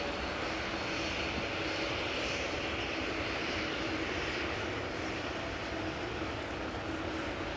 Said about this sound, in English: Got another Dreamliner coming in from the right, KLM flight 749 that has arrived from Cartagena.